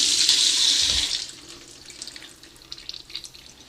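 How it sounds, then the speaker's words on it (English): Water from a tap rushes over a freshly sharpened knife blade for about a second, loud and steady, then cuts off, leaving faint drips and light handling sounds. "Once you're done, wash the blade"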